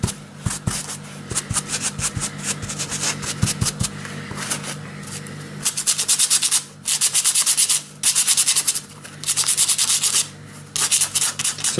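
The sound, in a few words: rubbing paint off a model wall with kitchen towel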